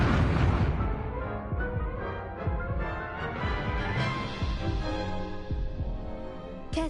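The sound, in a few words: Incendio fire spell cast in the Hogwarts Legacy video game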